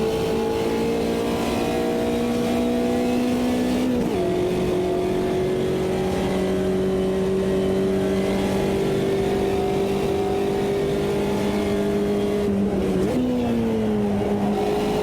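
In the Automobilista 2 racing game, a Puma GT race car engine drones loudly and steadily on a Brazil track, with its pitch held through long stretches and two sharp drops where the gears shift.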